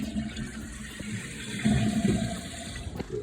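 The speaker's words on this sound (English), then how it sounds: "Into the flush test." A toilet tank fitted with a new Korky overhaul kit flushes during a test, a rushing swirl of water that swells midway and then settles into a steady refilling trickle.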